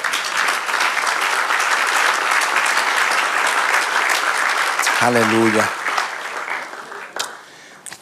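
A church congregation applauds during a sermon, with loud continuous clapping that fills the hall, a voice calling out briefly partway through, and the applause then tapering off.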